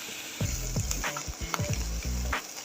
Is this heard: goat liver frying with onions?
yes